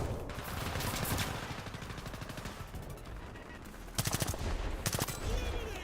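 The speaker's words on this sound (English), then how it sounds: "Oh god, someone's shooting at me." Gunfire in the War Thunder video game comes as rapid automatic bursts, one early and a sharper, louder volley near the end, over a constant rumble of battle noise.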